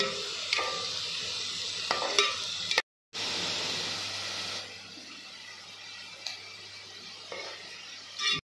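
Mutton kofta curry cooks in a handi over a gas cylinder burner, with a soft steady sizzle, scattered stirring scrapes and clinks, a brief cut, then quieter frying.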